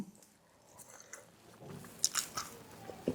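Close, quiet crunching and chewing of crispy food eaten with rice mixed in Thai chili paste (nam prik) with fried crispy bits, a few sharp crisp bites standing out near the end, with no talking.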